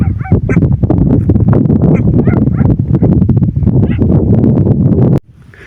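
A crowd of about thirty dogs, a Kangal standing among them, makes a dense, loud, continuous din of barking and yelping that stops abruptly near the end.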